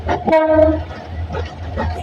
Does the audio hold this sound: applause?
no